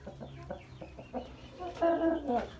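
Giant Brahma chickens cluck in a coop with soft, repeated calls and a louder burst of clucking near the end, close by, with a voice faintly present in the background.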